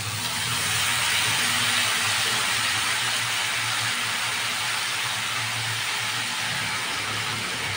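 Kachki fish paste drops into hot oil in a pan and sets off a loud, dense, continuous sizzle that holds steady throughout, close up and with no talking.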